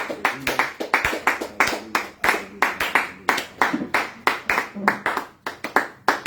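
A church congregation claps in a steady rhythm while praising, the beats loud and close, with voices over the clapping.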